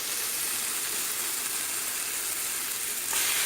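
A bacon slice sizzles in a frying pan with a steady, bright hiss that holds evenly throughout and swells slightly near the end, with no talk over it.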